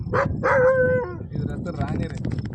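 A shepherd's dog gives a few close, loud barks and yelps, the first ones drawn out and whining, with a person speaking alongside.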